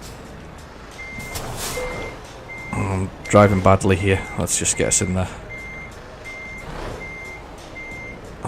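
Truck reversing alarm in Euro Truck Simulator 2 beeping steadily at an even pace, moderately loud over engine rumble, with someone talking briefly in the middle.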